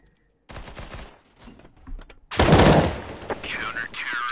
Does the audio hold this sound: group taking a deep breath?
no